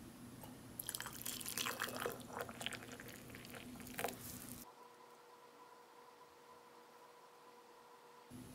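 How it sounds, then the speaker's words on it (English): Water pours and splashes into a mug for a few seconds, close and fairly loud, then stops, leaving a quiet steady hum. "Go ahead and add the hot water."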